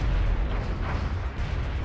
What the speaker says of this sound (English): That ship just opened fire on the city.